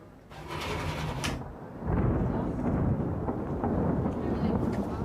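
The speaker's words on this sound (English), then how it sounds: "It was real thunder, wasn't it?" Thunder rumbles near Tallinn, Estonia, a deep rolling roar that swells and then holds for several seconds with a broad, heavy low rumble, while brief voices are heard at the start.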